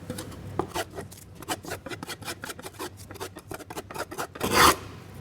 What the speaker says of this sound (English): while I have the spoke shave out, I might as well finish working on the faces here